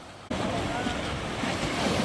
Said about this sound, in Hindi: पानी गहरा भी है और तेज लहरें भी आ रही हैं